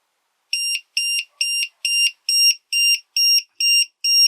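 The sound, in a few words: Power Wall Mini battery alarm buzzer sounding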